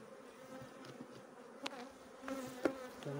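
Honey bees buzz steadily around an opened beehive during a beekeeper's hive inspection and split. The hum is soft and continuous, with a few louder passes as single bees fly close by.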